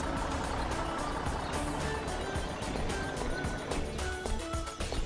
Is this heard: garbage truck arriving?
yes